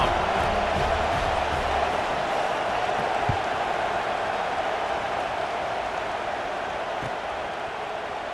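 A stadium crowd in EA Sports College Football 26 keeps up a dense, steady roar, a broad wash of noise with no distinct cheers standing out, holding at a constant level throughout.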